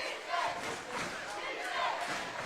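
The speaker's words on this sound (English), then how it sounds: "You hear the crowd behind us from Walker chanting defense, defense" A basketball crowd from Walker chants rhythmically during a game, far off and faint. Two swelling pulses of massed voices rise over a murmur of crowd noise.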